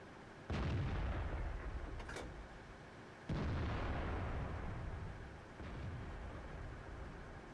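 Tank cannon shots from a Tortoise in World of Tanks, two heavy booming reports a few seconds apart, each with a long rumbling tail, over steady battle ambience and no talk.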